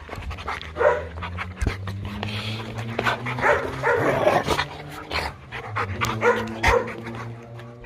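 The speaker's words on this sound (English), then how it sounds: "But these are the dogs." Dogs pant heavily and close by, with scattered barks, yips and whimpers mixed into the continuous breathing.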